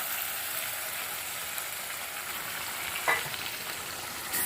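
Fried masala in a pan sizzling as beaten yogurt goes in, a constant soft hiss of frying with a brief clatter and splash partway through, no talking.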